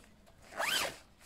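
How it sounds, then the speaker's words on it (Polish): Single quick zip of the zipper on a Helikon-Tex Carryall Backup polyester bag, one close, crisp rising pull lasting well under a second against quiet surroundings. "Zamek."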